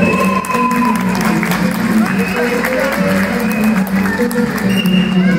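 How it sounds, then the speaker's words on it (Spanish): Circus audience applauding a performer at a Circo Atayde show, steady dense clapping filling the whole stretch with crowd murmur and some talk underneath. "¡Aplauso para el caballero!"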